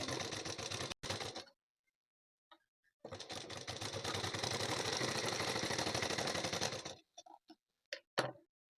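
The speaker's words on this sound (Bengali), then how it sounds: "উল্টে দেওয়ার পর এইখান থেকে বরাবর কিন্তু হাফ ইঞ্চি বরাবর ধরে ধরে আমরা সেলাই দেবো" A sewing machine stitches a blouse in two runs, a brief burst followed by a longer steady whirring stretch of rapid needle clatter, then a few short ticking stops and starts of the mechanism, close and clear with no talking.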